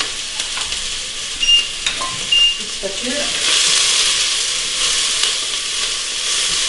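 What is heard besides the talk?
onions frying in olive oil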